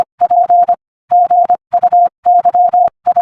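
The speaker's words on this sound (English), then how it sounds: "That was Morse code." Morse code tones: a clean steady beep keyed on and off in short and long pulses, grouped with brief gaps between letters, loud and alone with no other sound.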